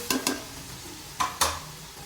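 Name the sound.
tomatoes added to a frying pan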